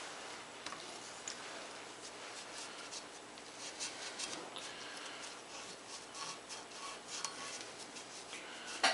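A rag wipes oil off the gearcase surfaces of a classic OMC outboard motor during a reseal; faint, close rubbing and rasping strokes repeat steadily and alone, with a slightly louder scrape at the end.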